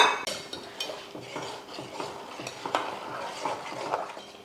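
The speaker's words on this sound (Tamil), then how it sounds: "நம்ம கலந்து வச்சுருக்க மாவு இதில் சேர்த்து நல்லா கைவிடாமல் கலக்கலாம்" A utensil scrapes and stirs urad dal flour batter inside a pot with repeated clinks and swishes, steady and close, with no talking.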